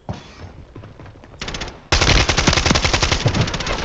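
A gold AK-47 in the video game Warzone fires: a few lighter shots lead into a loud, sustained burst of rapid automatic gunfire with no talking.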